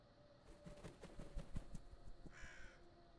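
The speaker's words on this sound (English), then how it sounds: "I keep hearing the bird." A crow cawing in a video game, a series of loud harsh caws in quick succession over a faint ambient background.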